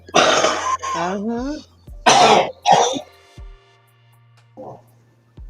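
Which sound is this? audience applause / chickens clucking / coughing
coughing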